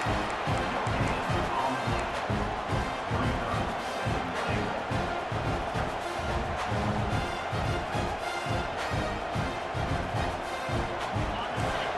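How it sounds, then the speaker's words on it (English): A continuous roar of a large stadium crowd in the video game EA Sports College Football 26, with steady rhythmic thumping beats running underneath, loud and unbroken throughout. "Listen to the crowd energy here in the early going."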